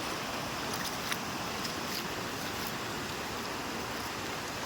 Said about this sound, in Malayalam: അത്യാവശ്യം മഴയൊക്കെ ഉണ്ട് ഗൈസ്.